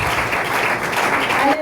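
A congregation applauding in church at a New Year's Eve service, a short burst of dense, close clapping, with a voice emerging at the end.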